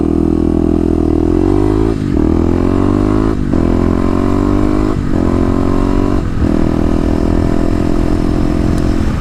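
A Kawasaki KLX250 dual-sport motorcycle is ridden with its loud, steady engine drone up close, the pitch climbing and briefly dipping at each of several gear shifts.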